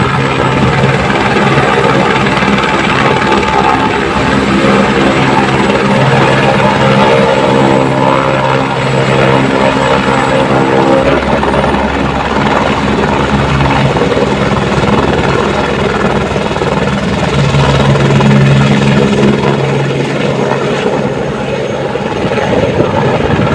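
A helicopter flies close by on the Kedarnath route, its heavy rotor thrum and engine whine loud and continuous throughout, with no one talking.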